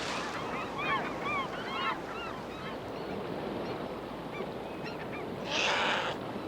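Seagulls give high, rising cries again and again at a river where brown bears catch salmon, scattered across a steady wash of rushing water, with a brief sharper burst near the end.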